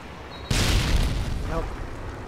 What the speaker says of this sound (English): It's a missile ready for deployment